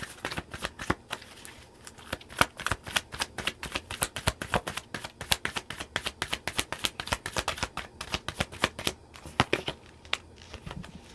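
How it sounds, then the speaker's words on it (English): Tarot cards shuffled and drawn during a couples love reading: a long run of quick, crisp riffling snaps and slaps, steady and close, with no talking. "Just going to grab one more card."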